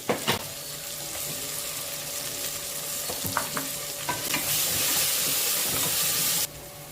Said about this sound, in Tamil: பிரியாணிக்கு வெங்காயத்தை கொஞ்ச நேரம் நல்லா வதக்குங்க.